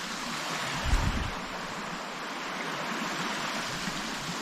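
Sea waves wash in at the foot of a steep glen on the coast. The broadband rush is steady and close, with a brief thud near the start and no talk.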